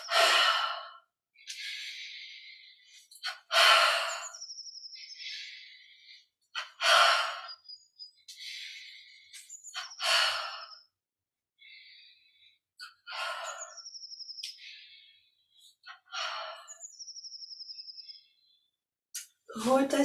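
Deep, forceful breaths during a Yogoda energisation exercise, a series of strong rushing inhales and exhales repeated about every two to three seconds, close and loud, with faint birdsong in the quiet gaps between breaths.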